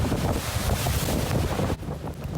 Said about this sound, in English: It's a windy Wednesday.